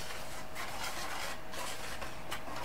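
Lard being worked into tortilla flour with a whisk in a bowl gives a steady, close, scratchy rubbing and scraping with soft rhythmic strokes and no voices.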